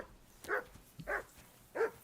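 A dog in the medieval game Kingdom Come barks three times, short evenly spaced woofs at moderate volume, clear against a quiet background.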